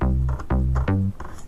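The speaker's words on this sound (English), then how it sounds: "it does that bending sound, which is basically just in the controls" A synth plays a short phrase of sustained notes whose pitch slides smoothly between them with glide set to portamento, three bending notes in a row, then a softer tail, loud and alone.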